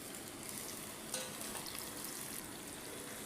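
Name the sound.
onions and spices frying in a pan as tomatoes are added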